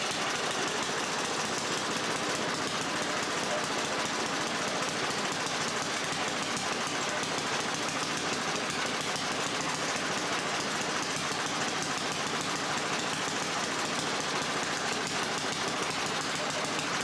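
A Snapper 6/22 snow blower's small gasoline engine runs steadily, loud and close, with a dense, continuous rattling drone that holds throughout without pause.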